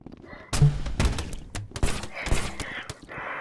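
Gunfire in the Rec Room video game, a quick series of hard thuds and cracks up close, loud and irregular, with a short groan-like sound among the shots.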